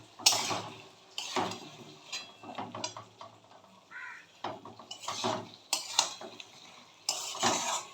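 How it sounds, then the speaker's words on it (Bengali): Fried potatoes being stirred and cooked down in a pan with a little water for a bottle gourd and prawn curry, repeated scraping and clinking of a metal spoon against the pan over a faint sizzle, no talk. "যে আলুগুলোকে আমি ভেজে রেখেছিলাম সেটা দিয়ে আমি আরও একবার ভালো করে কষিয়ে নেব।"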